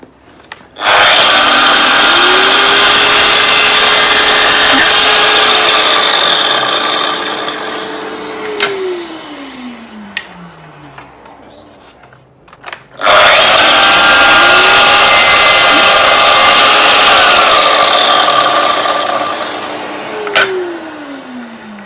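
Festool KS 60 drop saw cutting wood, two loud cuts each starting with a sharp motor whine, holding a steady buzzing roar through the timber, then winding down, close by with no talking.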